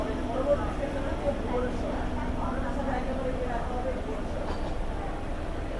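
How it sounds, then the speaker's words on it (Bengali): A train pulls out of Khurda Road Junction railway station, a continuous low rumble and rattle of the carriages heard from inside, steady and moderately loud with no clear voices over it. "দেখো বন্ধুরা আমার ট্রেন ছেড়ে দিল খুরদাওয়ার জংশন রেলওয়ে স্টেশন থেকে।"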